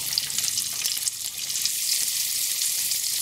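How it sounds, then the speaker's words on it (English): Onions frying with garlic in a hot pan for a Bangladeshi fish curry, giving a steady, dense, close sizzle that runs throughout without a break, with no speech. "Next, we're going to add in the onions,"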